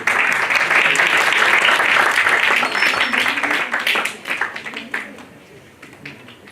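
Audience at a national conference on herbal medicines giving a round of applause during a felicitation, dense sustained clapping that fades away over the last couple of seconds.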